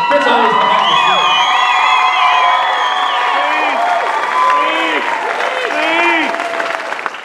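A pageant audience at a homecoming event claps and cheers loudly for the stage manager, with whoops and excited shouts rising over dense, sustained applause close by.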